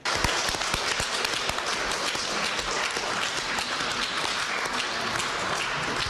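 Sustained applause as freed Ukrainian prisoners arrive at a military hospital, many hands clapping steadily at moderate distance for several seconds, with no voices over it.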